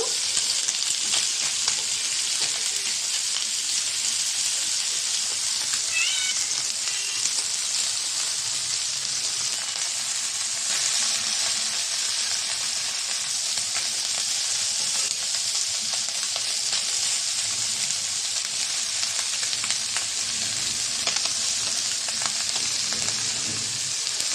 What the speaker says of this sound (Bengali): মাছটা ভাজা হয়েছে, ওই পিঠটা একটু উল্টে দিব